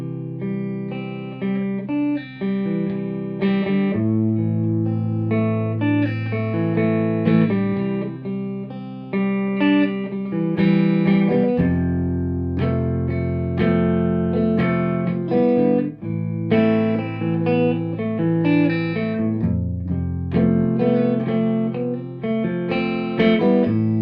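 Electric guitar with a clean tone plays through an old Marshall JTM30 valve amplifier, a continuous run of picked chords and single notes with clear ringing sustain, played alone without talk.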